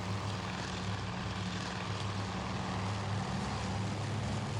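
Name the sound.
WWII propeller aircraft in video game Task Force Admiral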